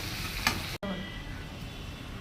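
Food fries in a pan with a soft, steady sizzle, fairly quiet and close, broken once by a brief gap.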